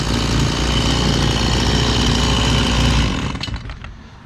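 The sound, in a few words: chainsaw cutting notches in roof purlins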